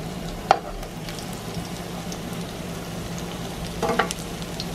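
Steady oil sizzle of tostones frying in a pan, with a couple of brief clinks partway through.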